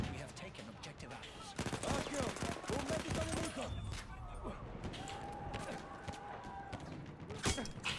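Gunfire rattles through a Battlefield 1 match, with bursts of rapid shots and mechanical clatter under a player's voice talking, loud and dense in the first half and more scattered later.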